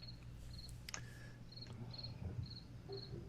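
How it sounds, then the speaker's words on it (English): Crickets chirping at dusk outdoors, a faint, regular string of short high pulses repeating through the clip with a quiet background and no talk. "Do I hear crickets too?"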